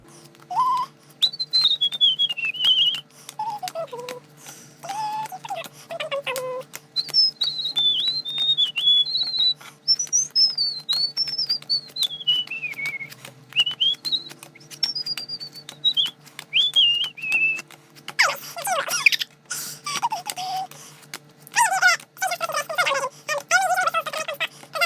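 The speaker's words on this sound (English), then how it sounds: "have a bit of a whistle" A person whistles a wandering melody in bursts of rising and falling notes, with pauses between phrases and light handling noises in the background.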